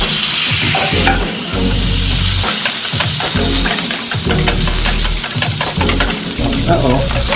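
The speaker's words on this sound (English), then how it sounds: "And we're just going to whisk this up." Eggs with salt and pepper are whisked briskly in a bowl, making a steady run of fast, rhythmic scraping and clicking strokes close up.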